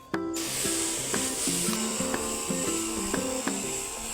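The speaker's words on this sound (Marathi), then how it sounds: "आज आपण एक इन्सेक्टिसाइड आणि फंजीसाइडची फवारणी या टोमॅटो प्लॉटवर करत आहे" Motorized sprayer misting a mix of insecticide and fungicide, Antracol, Runfen and a spreader, over a tomato plot, a steady loud hiss with a droning engine tone that keeps a regular pulsing rhythm throughout.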